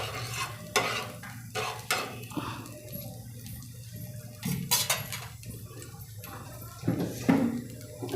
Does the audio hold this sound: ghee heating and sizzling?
yes